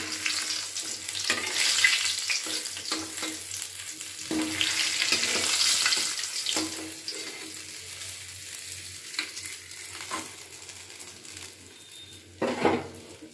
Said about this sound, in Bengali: একইভাবে লাল করে ভেজে নেব।